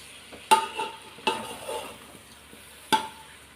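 Chicken biryani with basmati rice being stirred in a pot, three distinct scraping strokes of the spoon against the pot with softer shuffling of rice between them, close and alone.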